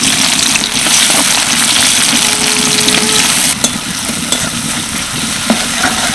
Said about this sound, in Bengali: তেলের মধ্যে দিয়ে দিচ্ছি এলাচ লবঙ্গ আর দারচিনি কুচিয়ে রাখা একটা মিডিয়াম সাইজের পেঁয়াজ